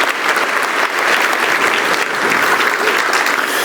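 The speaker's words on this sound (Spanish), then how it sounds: "con esa mano dele un aplauso a Dios con todo su santo corazón" A church congregation applauds God during a Spanish-language sermon, a dense, steady wash of many hands clapping together, loud and sustained throughout with no voices rising above it.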